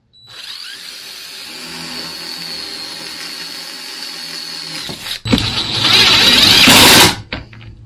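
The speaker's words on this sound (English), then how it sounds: "I'm still going to pre-drill it though." A power drill whines steadily for several seconds, then stops briefly and roars again louder as it bites into an RV slideout floor, pre-drilling screw holes, close and loud.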